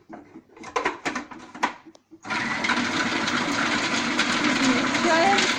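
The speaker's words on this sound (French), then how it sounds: "измельчаем на миксере" An electric blender runs continuously for about three seconds, grinding orange zest, lemon juice and other ingredients for Beraweka, after a brief stretch of clattering and handling noises at the start.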